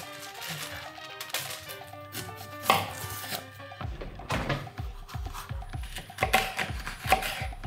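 Knife chopping garlic and bell pepper on a cutting board in a home kitchen, a run of close, sharp rhythmic knocks that speed up into quick repeated chops, no talk.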